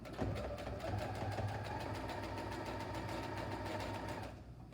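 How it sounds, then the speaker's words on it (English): A portable Brother sewing machine runs at a steady, fast stitching rhythm for several seconds, close and even, then stops with the needle down; no one speaks. "My machine stops with the needle down, which is nice, so I can adjust as I go."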